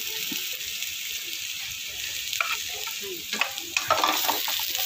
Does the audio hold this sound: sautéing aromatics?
yes